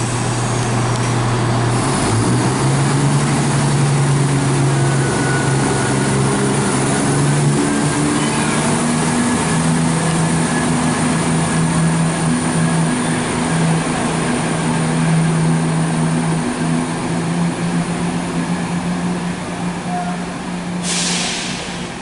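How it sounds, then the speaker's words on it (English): ScotRail train pulling out of Dunblane for Edinburgh, its steady close engine drone rising in pitch as it gathers speed, a loud continuous rumble throughout with no talking. "departing now is the 11:37 ScotRail service to Edinburgh from Dunblane"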